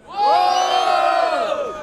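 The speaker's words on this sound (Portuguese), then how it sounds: "Barulho para as irmãs do Refel" A crowd at a freestyle rap battle in Barueri, São Paulo, roars and cheers, a loud, sustained mass of voices that swells quickly and holds, with whoops and shouts rising above it.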